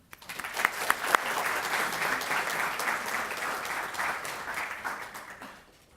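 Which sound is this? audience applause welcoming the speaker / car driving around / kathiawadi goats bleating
audience applause welcoming the speaker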